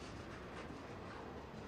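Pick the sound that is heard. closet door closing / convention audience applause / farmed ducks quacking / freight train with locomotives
freight train with locomotives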